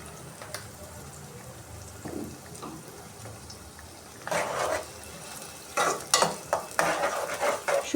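Dried fish frying in soybean and mustard oil with garlic, heard as a soft sizzle under intermittent scraping and stirring clatter that grows busier toward the end.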